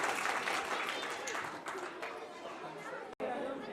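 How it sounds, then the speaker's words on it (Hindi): A school audience claps at a school function, a quiet spread of applause mixed with chatter from the crowd. "एक बार जोरदार तालियां इनके लिए।"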